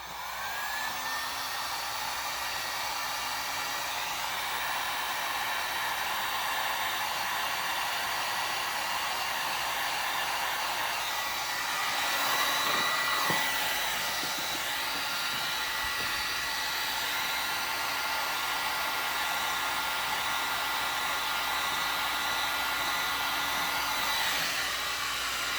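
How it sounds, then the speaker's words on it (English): A heat gun shrinks a heat-shrink sleeve on headlight wiring for a 2015 Chevy Silverado, its airflow a steady, continuous hum that swells slightly partway through and then settles again. "use my heating gun and shrink wrap that thing, the little sleeve"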